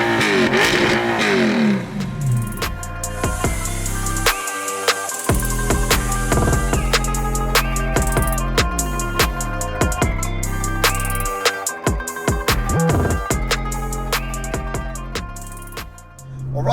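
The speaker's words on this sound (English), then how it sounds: "the revving on this bad boy, that straight pipe just sounds amazing. It's screaming, isn't it?" A tuned Audi R8 V8 manual with a straight-pipe exhaust revs hard and loud, climbing through repeated screaming rises, sharp gear changes and brief dips, sustained for many seconds with no talk over it.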